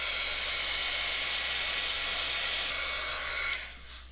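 A heat tool blows steadily to set clear embossing powder on a stamped card, a constant loud airy whoosh that holds for several seconds before easing off slightly near the end, with no voice over it.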